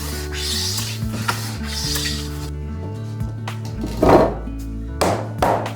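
A knot-free cypress floorboard is worked into its joint at a wooden pillar, heard as a run of rubbing, sliding wood scrapes followed by a couple of dull knocks as the board seats, up close with no speech.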